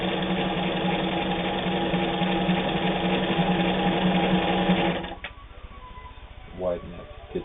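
A Vogue Stitch sewing machine stitches fabric in a continuous close hum for about five seconds, then falls quiet, leaving softer handling noises and a brief mechanical whir.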